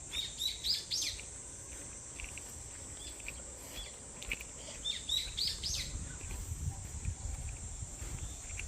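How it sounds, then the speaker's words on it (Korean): Birds chirp and sing in short bursts along a forest path with bamboo stands, the calls fairly faint over a soft bed of insect buzz and ambient rustle. "새소리 너무 아름답죠?"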